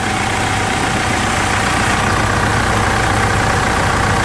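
A Mitsubishi Triton engine idles after a decarbonization service, giving a steady, even rumble with a constant hum that stays level throughout, with no talk over it.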